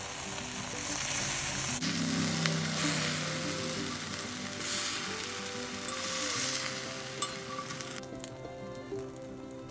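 Garlic sautéing in a pan after chicken breasts were browned, heat turned down to medium-low: a loud, steady close sizzle with occasional stirring scrapes, dropping back to a quieter hiss near the end.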